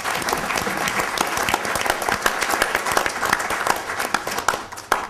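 A conference audience at a panel on Indigenous peoples' rights breaks into sustained applause, dense clapping filling the room with sharper individual claps standing out and a final burst near the end.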